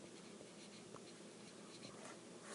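Pen or pencil writing out a number by hand on paper, a steady close scratching that runs unbroken and fairly quiet throughout, with no voices.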